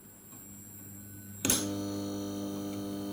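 AC-powered coils set in a north-south, south-north Leedskalnin arrangement switch on with a sharp click, then settle into a steady, close electrical hum with strong harmonic overtones, no talk.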